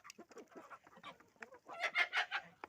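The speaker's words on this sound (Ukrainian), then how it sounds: "Є моя качка." A farmyard duck gives a run of quick quacks and clucking calls close by, with other fowl nearby and a louder burst toward the end, in a snowy farm setting.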